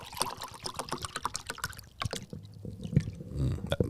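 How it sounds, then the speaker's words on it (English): Water pouring from a tap or bottle into a red mug, a close, continuous trickling splash that shifts in tone as the mug fills, then tapers into softer dribbles and handling noises. "I'm going to fill it up with water actually before I get thirsty"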